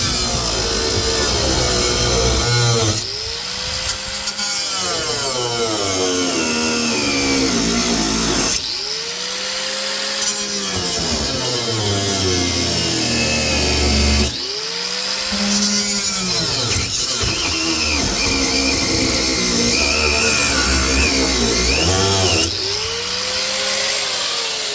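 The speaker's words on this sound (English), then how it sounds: "So we got to go to the side grinder and a little more extreme measure to get these off." A side grinder on an MGB GT barn find screams in repeated long bursts, cutting through spinning bolt heads, its whine rising and falling with each pass and brief pauses between cuts.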